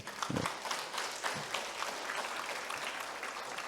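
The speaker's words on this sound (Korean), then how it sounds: "박수 한번 주십시다." A church congregation applauds young members during a Sunday service, a faint, dense patter of many hands with a few louder thumps near the start, continuing steadily.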